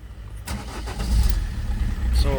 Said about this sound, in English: We will start the engine now.